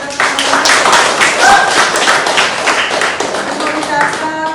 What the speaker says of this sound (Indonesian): Oke, biar kita beri tepuk tangan untuk kita semua.